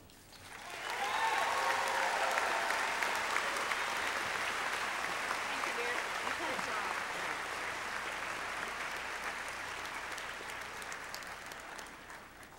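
Applause swells from a large audience at a spring undergraduate commencement ceremony, rising quickly after a moment and holding as broad, steady clapping before gradually tapering off.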